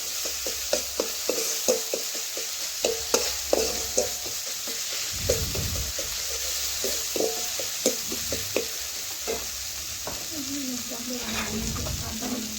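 Tadka masala frying in a pan with spices for a mung dal dish, with a bright steady sizzle and rhythmic spatula scrapes and taps close by, no speech.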